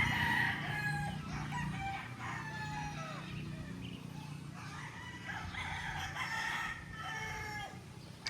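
A young rooster (stag) crows several times in a row amid other clucking fowl outdoors, the calls moderately close over a steady low background hum.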